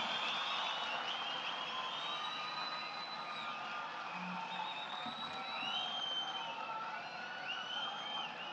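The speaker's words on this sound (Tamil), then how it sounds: "ஒரு அரங்கம் நிறைந்த கைத்தட்டல் நமது குழந்தைகளுக்கும் வெற்றி தலைவருக்கும்" An audience in a hall at an education award ceremony keeps up steady, dense applause mixed with distant crowd cheering and whistles, a continuous wash of sound lasting several seconds with no clear pauses.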